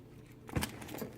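Keys jangle on a bag hung by a back door, a short close rattle swelling in the middle of the moment and then settling into softer metallic clinks.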